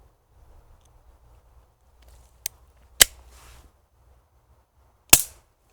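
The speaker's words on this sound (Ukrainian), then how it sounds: "зараз ще один постріл" Sharp, loud snapping shots from a GAMO AF-10 compression air pistol, with a lighter click and two strong cracks spaced seconds apart in an otherwise quiet space.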